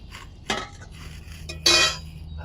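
A metal spatula scrapes through chicken, chopped tomato and green jackfruit in a pan of hot oil, with two distinct close scraping strokes over a low background hum and no talk.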